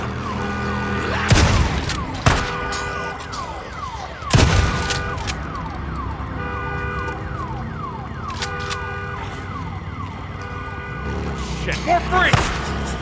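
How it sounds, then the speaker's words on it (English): A wailing alarm siren rises and falls steadily in the Days Gone video game, punctuated by several sharp impacts and bangs, with a burst of activity near the end. "Alarm."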